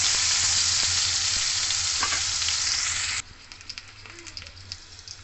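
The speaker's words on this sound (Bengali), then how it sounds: "উল্টিয়ে পাল্টিয়ে লাল করে আমি ভালো করে ভেজে দেবো" Eggplant slices frying in hot oil in a pan for a Bengali curd-eggplant dish, turned as they cook: a loud, dense sizzle for about three seconds that drops to a quieter sizzle with scattered pops and scraping clicks.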